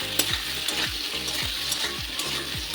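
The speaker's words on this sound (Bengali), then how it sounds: "ওখানে আলুও ভাজা হয়ে গেছে" Potatoes with turmeric and salt dry-frying in a pan without oil: a steady close sizzle, with a spatula scraping the pan in regular strokes about twice a second; no voices.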